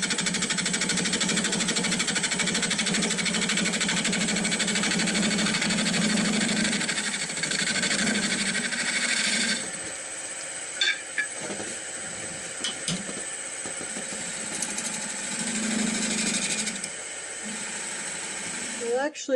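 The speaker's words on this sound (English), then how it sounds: "one more cut with my bowl gouge" A bowl gouge cuts a wooden piece spinning on a lathe, making a continuous loud rough whirring and scraping hum that shifts texture partway through, while a voice talks intermittently over it.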